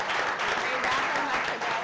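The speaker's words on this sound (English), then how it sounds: "Florida Blue, give them a big round of applause." Audience at a chef cooking competition applauding a sponsor, a steady mid-level wash of clapping from a crowd, with voices mixed faintly underneath.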